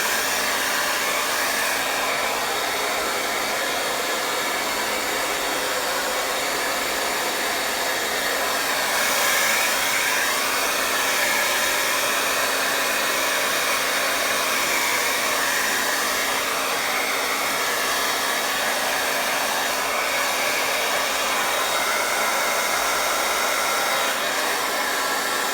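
A hair dryer blows over fresh acrylic paint, a loud, constant close-up whoosh of air and motor hum that runs unbroken throughout, with no voices.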